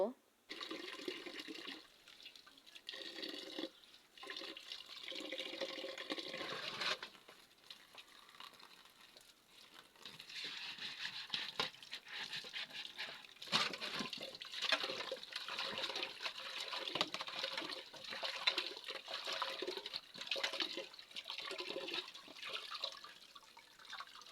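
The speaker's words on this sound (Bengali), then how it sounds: "তো এবার আমি শাকগুলোকে ধুয়ে নেব।" Leafy greens, thankuni leaves, are washed by hand in water, with splashing, swishing and trickling that runs continuously at a moderate level.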